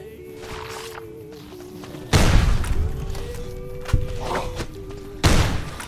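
Gunfire in the video game Fallout New Vegas: heavy booming shots land in a few loud bursts, with some softer thuds between them and a steady game tone underneath.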